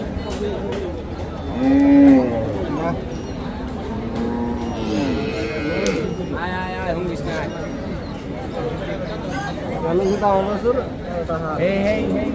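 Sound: calves and cattle lowing at a livestock market

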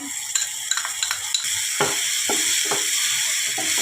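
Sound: chopped tomato, onion and garlic frying in a pan

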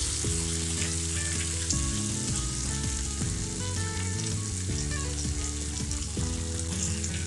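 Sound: onions and tomatoes frying in a pan

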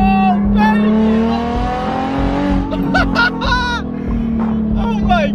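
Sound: loud car engine revving after a downshift

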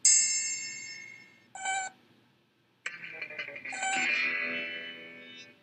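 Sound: metal triangle being struck and ringing

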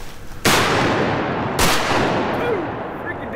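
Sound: shotgun shot while duck hunting greenheads

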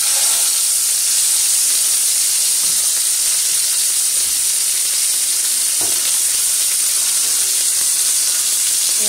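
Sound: steak sizzling in a pan after being flipped

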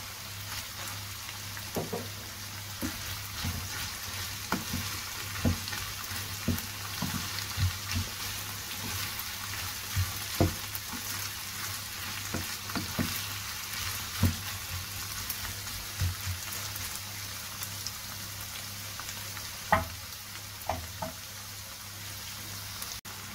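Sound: chives and parsley frying and stirred in batbout pan

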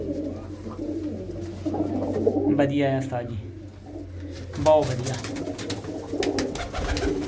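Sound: pigeons cooing

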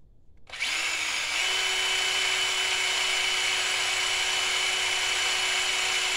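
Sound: power drill drilling metal

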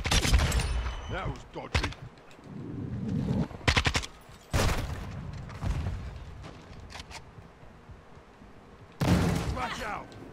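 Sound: Kastov-74u gunfire in video game Modern Warfare 2

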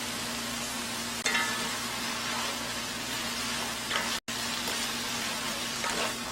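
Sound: stir-frying bean sprouts with chili in a pan

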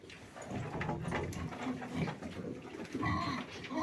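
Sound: pigs grunting

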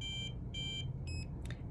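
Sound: XTG X-ray device exposure beeps

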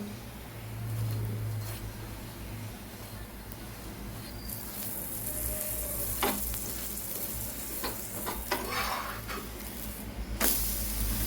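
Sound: paneer paratha frying in butter on a pan

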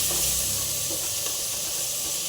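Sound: coriander and mint leaves frying in a pan

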